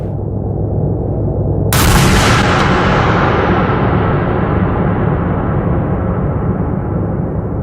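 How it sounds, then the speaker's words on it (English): A single loud gunshot from the ending of the video game Mouthwash cracks sharply out of a low rumbling background, then trails off in a long, booming echo that fades slowly. "man, that gunshot, it just hits"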